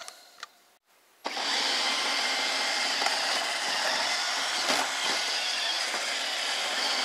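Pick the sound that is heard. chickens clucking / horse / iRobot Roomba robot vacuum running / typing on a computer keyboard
iRobot Roomba robot vacuum running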